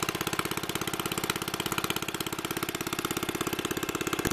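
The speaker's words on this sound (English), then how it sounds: "It's powered by a Briggs and Stratton Model Y." A Briggs and Stratton Model Y engine on a 1930s Sears lawnmower runs steadily, a close, fast and even putt-putt of single-cylinder firing beats with a rattly mechanical edge, heard alone with no talking.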